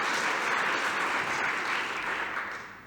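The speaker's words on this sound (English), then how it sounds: "A round of applause for" Audience applause at a community mental health education conference, a dense, even roar of many hands clapping from a large room, steady then gently tapering near the end, with no voices.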